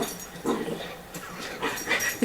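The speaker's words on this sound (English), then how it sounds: "My dog just came in from outside and he gets excited." An excited dog just in from outside panting and growling playfully indoors in a kitchen; rough breathy pants and low growly whimpers, close and fairly loud, with no talking.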